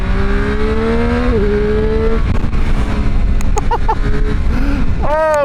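A Triumph Street Triple 765 RS Moto2 Edition engine in sport mode revs and accelerates up through its range, shifts, then blips and climbs again, loud and close.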